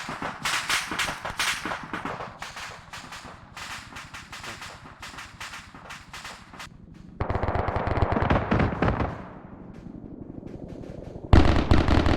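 Rapid bursts of automatic gunfire rattle in Arma 3 military training, long strings of shots with brief pauses, then a louder, denser volley and a final close burst.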